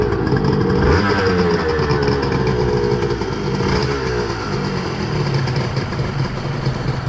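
A Honda NSR250 two-stroke motorcycle engine idles nearby with a steady, buzzing putter and slight revving, running continuously without talk.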